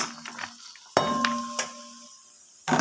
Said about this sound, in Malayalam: ഇത് വഴറ്റിയെടുക്കാം.